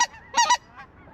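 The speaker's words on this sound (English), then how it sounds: "Kill them honkers on the left." Geese honk nearby during a waterfowl hunt, a quick cluster of two or three loud, nasal calls in about a second, followed by a fainter call.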